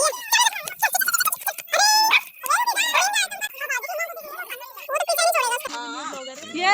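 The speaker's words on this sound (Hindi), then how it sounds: "व्हाट्सएप कैसे भौंक रहा है रॉक्सी के लिए" A pet dog barks and whimpers excitedly at another dog named Roxy, with sharp yelps rising over people talking close by throughout.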